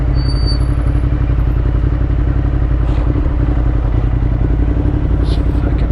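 A Ducati Monster motorcycle rides through town, its engine a loud, steady close-up drone with rumbling low end and some clatter and wind noise throughout.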